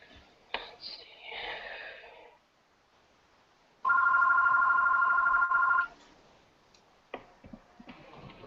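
A mobile phone rings with a steady electronic two-tone trill for about two seconds in a quiet room, with faint talk and small noises before and after.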